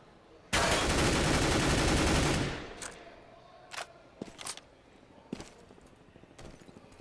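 Gunfire in CS:GO during a 2014 Gfinity 3 quarter-final match: a loud sustained burst of rapid automatic shots lasting about two seconds, then scattered single shots and sharp clicks further off.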